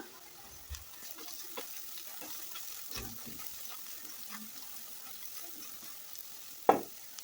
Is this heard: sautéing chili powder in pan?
yes